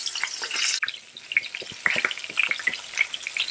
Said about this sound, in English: So we're putting the catfish on the pan first.